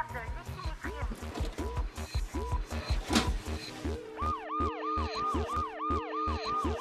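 An ambulance siren wails with rising and falling sweeps, joined by a second siren pattern, over background voices and traffic noise.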